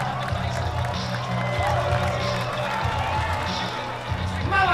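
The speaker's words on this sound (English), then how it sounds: "I like the cheer" A crowd cheering and clapping around a street fight in Watch Dogs 2, a lively mix of shouts and applause under prominent close male speech.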